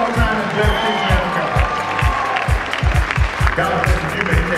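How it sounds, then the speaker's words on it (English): Gospel awards audience applauds, with dense clapping and some cheers from a large crowd while a voice speaks over it. "Clap your hands one more time and bless these men."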